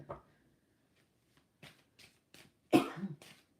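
A person getting over a cold coughs several times in short scattered bursts, with one harder, louder cough near the end, close to the microphone in a quiet room.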